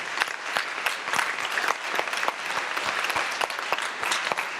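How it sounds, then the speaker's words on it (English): Conference audience applause after a lightning talk at SciPy 2017, lively clapping from a room of people with distinct sharp hand claps standing out over a steady crowd wash, continuous for several seconds. "Please give me a round of applause for Fernando Perez."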